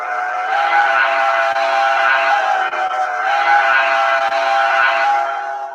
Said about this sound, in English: This is a B&O 6 chime.